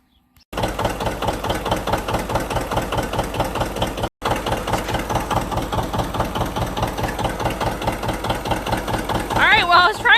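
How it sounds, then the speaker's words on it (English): A John Deere tractor diesel engine, run with a manure spreader on a late-winter day, idles with a steady, close, rhythmic chugging, briefly cut off partway, with a sharper rising noise near the end and no clear talk. "I was trying to do a cold start for you on this pony motor and diesel engine"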